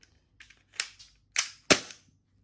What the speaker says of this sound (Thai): ปรับลงมาตัวนี้นะะแล้วก็ยิง โอ้โหลั่นค่อนข้างเร็วนะครับ